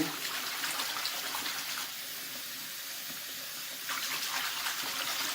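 Lukewarm water running from a tap into a warm lanolizing mixture to cool it gradually, a steady splashing gush that eases briefly in the middle, close and without speech.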